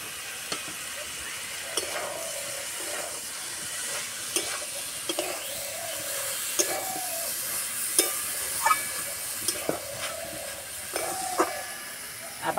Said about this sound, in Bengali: এইভাবে ঝিঙেটা ভেজে নেব।